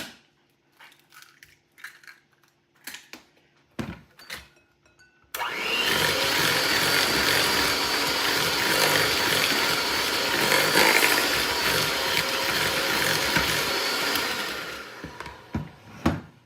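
An electric mixer beats eggs into creamed oatmeal raisin cookie dough with a loud, steady whir lasting about nine seconds, framed by scattered clinks and taps before and after.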